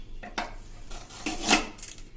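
Short cut pieces of peeled sugarcane dropped one after another into a metal vessel, giving several close, light clinks and knocks at uneven intervals with no talking.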